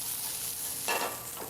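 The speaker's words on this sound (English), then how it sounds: "So you should always still hear that nice sizzling going on." Zucchini stir-fries in a pan over very high heat, giving a soft continuous sizzle with a brief louder burst of stirring partway through, close and quiet, with no talking.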